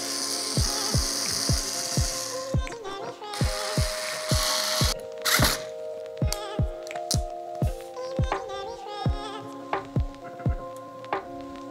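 An AliExpress CPU air cooler is tightened onto the back of a motherboard, a close run of regular mechanical ratcheting clicks from a screwdriver with intermittent scraping and creaking in between, no talking.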